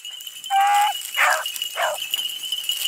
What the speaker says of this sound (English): another dog barking now